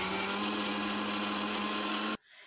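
Mixer grinder blending coconut, ginger, green chillies, curry leaves and water into a smooth chutney paste, a loud, steady whirring drone that cuts off abruptly near the end.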